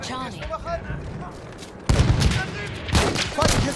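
Shotgun blasts in Battlefield 1, with two heavy, booming shots about a second apart standing out loudly over quieter background game noise and a voice talking.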